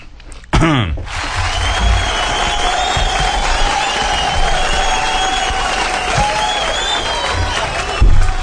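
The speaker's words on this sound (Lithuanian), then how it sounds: "Sveikinu tave, plojimai tau" Studio audience applause and cheering for a contestant who failed to finish a timed course on a Lithuanian radio game show, a dense steady crowd sound rising suddenly and holding for several seconds, with a tonal whistle-like line running through it.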